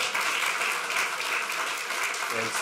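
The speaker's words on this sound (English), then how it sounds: "please give another round of applause to our students" An audience at a school district meeting gives students a round of applause, dense steady clapping close and loud throughout with no talk over it.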